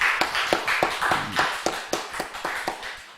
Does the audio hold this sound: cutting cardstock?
no